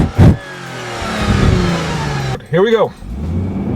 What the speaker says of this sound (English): Good takeoff. This engine has a lot of power.